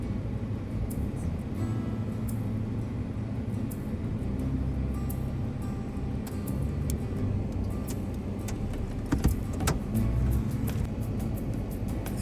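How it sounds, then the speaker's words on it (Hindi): Small rocks strike a car on a dangerous mountain road near Astore, scattered sharp ticks and taps over the constant low rumble of the vehicle, with a short cluster of hits toward the end. "ये आप लोगों को आवाज़ आई होगी बारीक बारीक सी, तो ये छोटे पत्थर गिर रहे थे"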